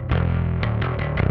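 Bass guitar played through a Mosky Third Space multi bass amp with the preamp blend mixing clean and distorted tones, giving a loud, gritty sustained note followed by several rhythmic re-plucked notes, with no talking.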